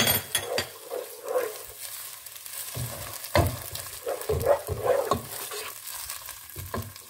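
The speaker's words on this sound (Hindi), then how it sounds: "इसमें मैं ये अदरक लहसुन का पेस्ट डाल रही हूँ" A tablespoon of ginger garlic paste hits hot oil with red Asian onions for Bihari dam qeema, frying with a steady sizzle broken by repeated scraping stirs of a spoon against the pan.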